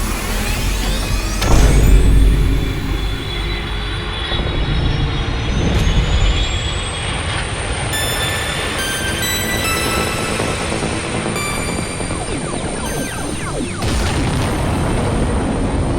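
Spaceship engines roar in a cinematic LEGO Classic Space Starfleet Voyager scene. A deep boom opens into a steady, loud rumble with sweeping tones, building again near the end.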